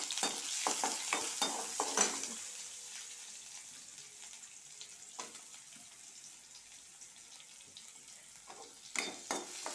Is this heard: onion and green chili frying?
yes